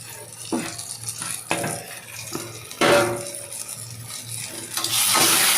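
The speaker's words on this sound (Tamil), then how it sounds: "இதெல்லாம் சேர்த்து நல்லா வதக்கிடுங்க நல்லா வதங்கணும்" Mint and coriander being sautéed in a pan for tomato kurma, with soft sizzling, intermittent scraping and stirring knocks, and a louder hiss toward the end.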